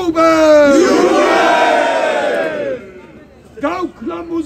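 A large crowd at a closing rally in the Alter Markt square in Kiel roars and cheers loudly for a few seconds, then a second, shorter cheer rises after a brief lull.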